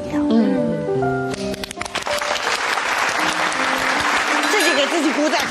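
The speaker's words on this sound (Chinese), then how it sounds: "自己给自己鼓掌" A studio audience applauds during a 2010 televised interview. Voices come first, then loud, dense clapping rises and keeps going, with a voice speaking over it near the end.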